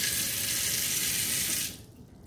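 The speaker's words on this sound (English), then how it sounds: "go wash your hands, run them with a little bit of water" Tap water runs loudly into a sink while chalk is washed off hands, a close steady rush that stops abruptly near the end, leaving quiet room tone.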